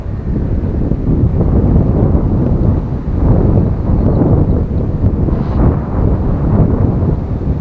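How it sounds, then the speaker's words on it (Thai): Strong wind roars steadily across the microphone beside a canal during a snakehead fishing trip, a dense, continuous low rumble with gusting swells and no break. "ลมก็แรงแรง"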